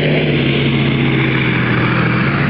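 Heavy Russian-built T-72 tank engine running at a military display, a loud, steady low drone with a strong constant hum and no breaks, no voices over it.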